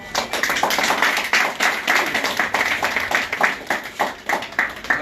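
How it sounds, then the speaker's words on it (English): An audience at a university gives a round of applause after Senator John Ballout speaks, a dense, loud patter of many hands clapping continuously for several seconds. "I think we should give you another round of applause"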